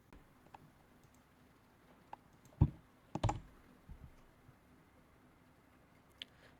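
Light, sparse clicks on a computer keyboard as a web address is typed, with a couple of louder clustered key presses near the middle, quiet and close against a faint room hum.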